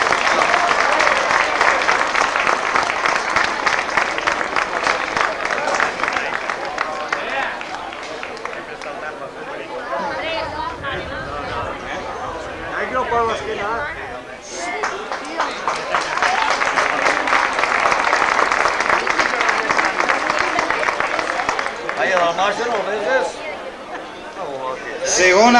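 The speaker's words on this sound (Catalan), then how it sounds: "Un aplaudiment per Raquel Mañez." Audience applause at a town festival (Festes Majors) in El Ballestar, a long sustained wash of clapping and crowd noise that swells, dips briefly midway, then builds again, with an announcer speaking over it.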